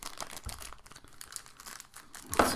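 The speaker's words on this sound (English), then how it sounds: "A ton of little tiny plastic bags." Tiny plastic bags crinkling and rustling while dice are unpacked, a close, irregular series of soft crackles and crunches with a sharper crinkle at the end, with no voices.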